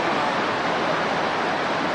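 Victoria Falls on the Zambia–Zimbabwe border roars as a steady, dense wash of falling water, loud and unbroken with no voices.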